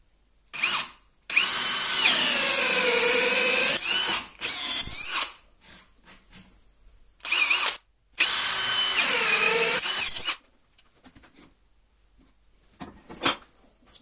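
A DeWalt DCD7771 brushless drill with a speed bit bores through about 4 cm of material in several bursts, some long and others short. Its whining motor strains and then stops between passes.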